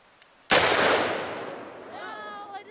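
A single loud gunshot cracks outdoors beside a cabin, a sharp blast followed by a long rolling echo that fades over two seconds, with a faint voice just after.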